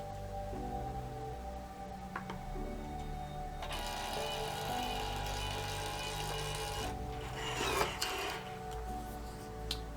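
A Brother P-Touch PT-series label printer runs a barcode label, giving a quiet mechanical whir with a faint steady hum, then rising bursts of feeding and clicking with a sharp cutter snap near the end, close and alone.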